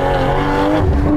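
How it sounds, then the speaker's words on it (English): A modified BMW M340i engine roars loudly and steadily, a rich harmonic drone that swells near the end as the revs build. "It sounds different from how it was at first. It took time, y'all. It took time and modifications"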